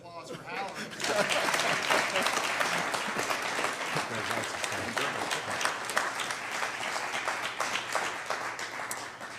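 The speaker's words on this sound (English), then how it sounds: "Another round of applause for Howard." An audience at a business award ceremony applauds a winner, with a sustained, full round of clapping that swells after a brief quiet start and holds steady, fairly close and loud.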